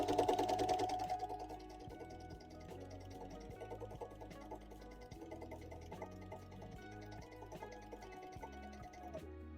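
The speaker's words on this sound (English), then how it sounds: "It's just a matter of sewing in a straight line now." A sewing machine stitches a quilt in a straight line, giving a steady, fairly soft mechanical whir with a fine rhythmic ticking throughout. The opening second is slightly louder.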